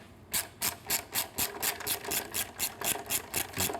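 Rhythmic ratcheting clicks from a socket wrench with an 8mm socket working a bolt on a Triumph Street motorcycle, about a dozen evenly spaced strokes, close and clear with no talking.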